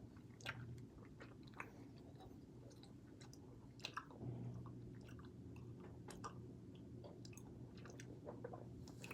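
Close, wet chewing of sticky caramel candy, with steady squishy mastication and occasional sharp bites running continuously, no talking.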